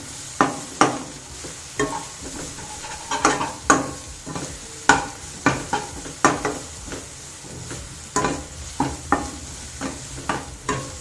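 Paneer masala with green chilli is stirred in a pan, a spoon scraping and knocking in irregular repeated strokes over a soft background sizzle, close and clear with no talk.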